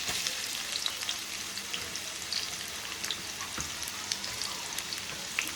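Onions and green chillies frying in hot oil make a steady, close crackling sizzle with scattered pops and light spatters, no voices.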